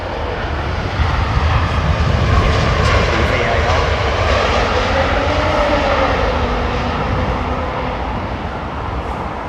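An airliner landing in wind and rain at London Heathrow roars steadily with engine noise and a rising whine, loud and sustained, while people talk over it.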